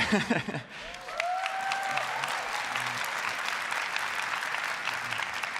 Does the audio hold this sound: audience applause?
yes